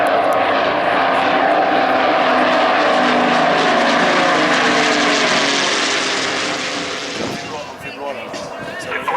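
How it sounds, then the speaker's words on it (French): Propeller airplanes at an air show fly in toward the crowd, a loud, sustained engine roar that holds steady for several seconds and then fades as they pass, with a commentator's voice over the public address. "les avions arrivent face à vous"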